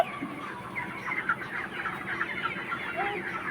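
Chickens cluck in a steady, busy chatter at close range, with several birds overlapping throughout, in an evening outdoor setting with a child and father nearby.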